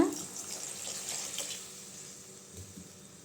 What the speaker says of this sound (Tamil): இப்போ தேவையான அளவு தண்ணி ஊற்றிக்கலாங்க